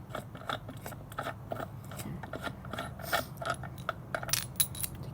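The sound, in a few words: unscrewing the IHC compression system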